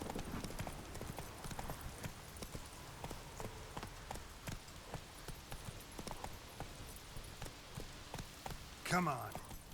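Hooves of Roach, a horse ridden in a video game, clip-clop in a steady rhythmic gait near the listener throughout, with a brief whinny near the end.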